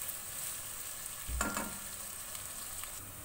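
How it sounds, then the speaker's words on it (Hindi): Thinly sliced onions fry in a pan for a keema dish, giving a steady close sizzle with a brief thump and clatter partway through; no talking. "उसको बारीक स्लाइस करके रखा है, वो ऐड कर देंगे। प्याज का हल्का सा लाइट ब्राउन कलर लेकर आएंगे बिल्कुल।"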